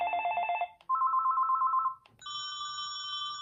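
A Panasonic KX-TGE822 cordless phone plays its external ringtone, a clean electronic melody of sustained tones in three distinct pitched phrases separated by short pauses, close and clear.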